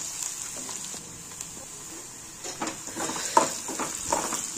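Chopped onion sautés in oil in a pan for a Marathi crumbled-chapati dish. A steady soft sizzle carries throughout, with brief stirring clatters toward the end.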